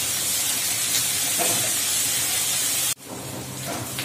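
Spice paste for a tangra fish dish sizzles and fries hard in a hot pan, a loud steady hiss that drops sharply near the end, then resumes more softly.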